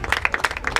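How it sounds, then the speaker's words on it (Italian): Crowd applause for the mayor Giovanni Corrado at a charity football match in Marigliano, a brief burst of close, rhythmic individual claps. "Giovanni Corrado, facciamo un applauso."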